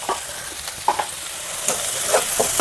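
Sliced bitter gourd sizzles steadily in hot oil in a pan as homemade chilli powder is stirred in, with a constant fry hiss broken by soft scrapes and taps of the spatula.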